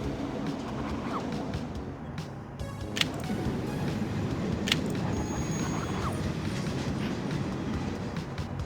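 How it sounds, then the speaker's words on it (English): In the video game Conduct DELUXE, a train pulls in with a steady rolling rumble and rhythmic clickety-clack of wheels, broken by a few sharp metallic clanks and a faint squeal. "our next train just arrived"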